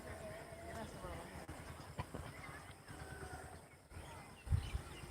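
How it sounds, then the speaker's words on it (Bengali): A train rumbles and clatters along a railway line close by, a steady rolling noise with a heavier thump near the end, and a voice talks over it. "দেখো ট্রেনটা আমাদের একদম গায়ের ধরে চলে আসবে"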